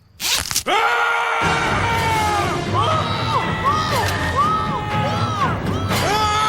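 Loud, sustained shrieking voices of a crowd, with a sharp burst at the start and wavering high pitched screams continuing throughout.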